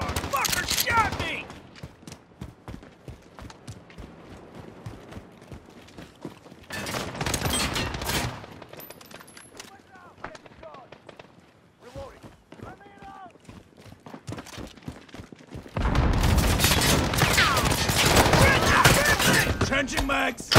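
Heavy automatic gunfire in the online shooter Call of Duty: Modern Warfare, loud rapid volleys in several long bursts with quieter stretches between, mixed with shouted in-game voices and combat effects.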